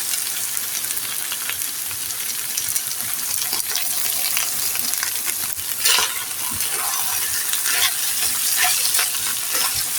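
Beef jhura frying in a pan while being stirred, a steady loud sizzle with scraping and knocking of the spatula against the pan running throughout.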